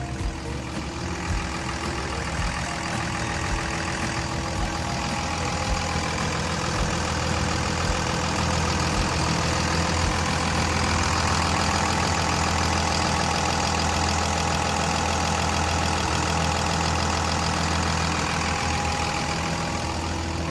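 The diesel engine of a Komatsu WA320-7 wheel loader idles steadily at close range, a constant low rumble with a mid-range clatter and no other sounds.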